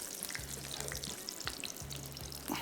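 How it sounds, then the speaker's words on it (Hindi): Meat pieces deep fry in hot oil, a soft continuous bubbling sizzle heard faintly and close, with quiet low tones pulsing underneath and no voices. "ये पीसेस फ्राई हो गए"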